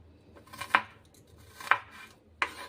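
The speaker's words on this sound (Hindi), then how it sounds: "प्याज को मैंने काट लिया है।" A knife chops onions on a board for a Rajasthani dhaba-style sev tamatar sabzi, giving three crisp, separate cuts spaced about a second apart against a quiet kitchen background.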